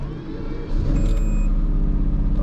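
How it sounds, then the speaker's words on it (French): A Lamborghini V12 engine fires up and settles into a deep, loud idle, a close steady rumble swelling after a short starter whir, with a few faint electronic beeps above it. "On va vous faire écouter le V12 quand même."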